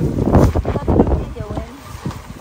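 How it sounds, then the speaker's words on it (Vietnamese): Strong wind gusts across a beach while a tent is being packed up, a loud, rough buffeting roar that surges and eases throughout, with voices close by. "Gió quá nhiều."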